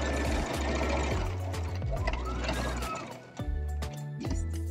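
A sewing machine running a medium zigzag stitch on a bralette, loud and close, with a low motor hum that speeds, slows and restarts in several stretches, no talk.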